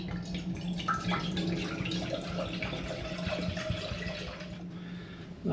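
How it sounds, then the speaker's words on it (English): Home-brewed saison-yeast cider streams steadily into a saucepan, a continuous soft splashing trickle that runs for several seconds at low, even volume. "pour some of this into the saucepan"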